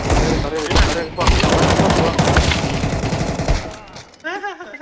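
Rapid automatic gunfire in Counter-Strike 2, dense bursts of loud shots through most of the span, ending with game sound effects and a voice briefly underneath.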